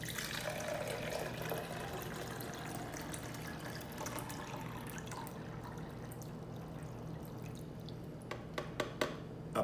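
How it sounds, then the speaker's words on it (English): Water pours steadily into a silicone ice ball mold for several seconds, faint and close. It thins toward the end into a few scattered drips and splashes. "You add the water."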